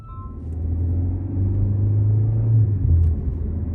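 BMW 530i with a variable exhaust driven in sport mode, a deep low engine rumble that swells and holds, heard from inside the car, steady and without talk.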